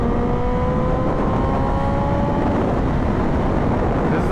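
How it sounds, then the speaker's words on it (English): A 2025 Honda CBR600RR sport bike idling or cruising in traffic, its engine a steady, dense drone with faint whining tones, loud and continuous and mixed with road noise, with no voices. "Dude, this bike sounds amazing right now."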